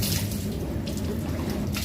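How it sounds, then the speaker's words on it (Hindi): Water is poured over the left shoulder during ritual bathing, a close, continuous splashing pour with slight fluctuations, running the whole time with no speech. "उसके बाद बाएं कांधे पे इस तरीके से पानी डालेंगे।"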